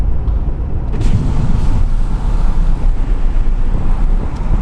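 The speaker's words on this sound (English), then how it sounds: "Let's check out wind noise with the windows down," Loud, steady wind roar buffets through the open windows of a 2014 Ford Super Duty 6.7L turbo diesel pickup moving at speed, a broad continuous rush with faint road rumble beneath.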